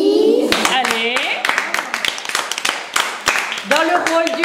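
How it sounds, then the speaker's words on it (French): An audience claps at a children's stage performance of Roule Galette, with scattered, uneven hand claps sounding under continuous talking from a presenter. "on les applaudit"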